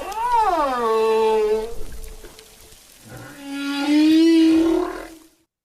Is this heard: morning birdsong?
no